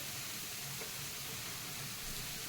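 Upsaru fries on a medium flame, a steady dense sizzle and hiss held close and even throughout, with no voices.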